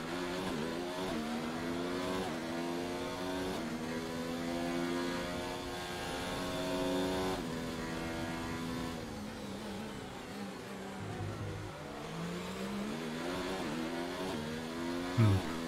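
Rickety onboard engine of a Williams car in the F1 2019 racing game, repeated rising rev sweeps as gears change up and down, steady and close with a buzzing, uneven tone and no speech.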